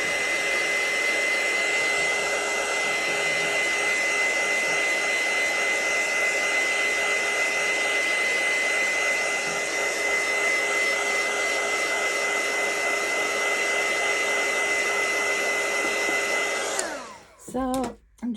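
A heat tool blows steadily for about seventeen seconds, drying a mixed media journal tag, a constant loud whooshing hum that cuts off abruptly near the end, followed by a couple of brief handling sounds.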